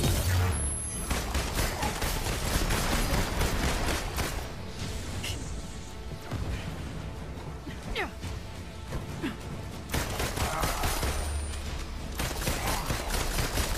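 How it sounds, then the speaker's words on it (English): Rapid bursts of gunfire in the Marvel's Avengers video game campaign, repeated automatic volleys and impacts over a loud game soundtrack, with a player's voice talking in between. "Keep shooting him in the face"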